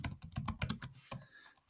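Fast, close clicking of keys on a computer keyboard comes in a quick burst of keystrokes, a short pause, then a few more taps.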